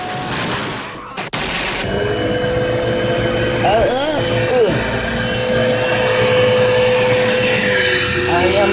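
A vacuum cleaner whirs loudly and steadily up close after a brief bump near the start, its roar holding for several seconds with some voiced sounds under it.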